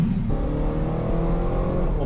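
A Ferrari 458 engine revving with its Valvetronic exhaust valve opening, a steady, loud, low engine drone that deepens and thickens after a brief change near the start.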